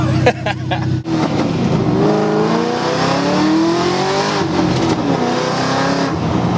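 A Pontiac GTO with a swapped LSA supercharged V8 roars loud and close as it accelerates hard down a street, the engine note climbing through the gears in one continuous pull.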